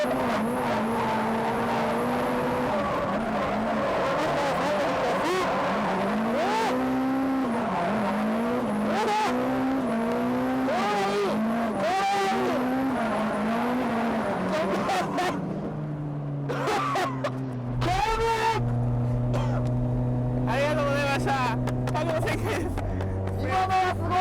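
A drift car's engine revs hard and repeatedly with shifting pitch as tires skid and squeal during a drift, then the engine settles into a steadier drone, with crowd noise in the background.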